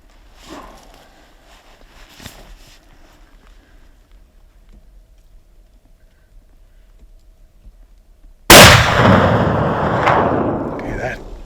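A single loud rifle shot rings out during an elk hunt in Washington, sudden and sharp after a long, near-silent stretch of faint rustles, then a rolling echo that fades slowly.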